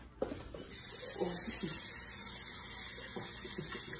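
Tap water pours steadily into a pot of rice being rinsed in a kitchen while shrimp and grits are made. The tap comes on with a sudden rush and keeps running close and even, with some quiet talking under it.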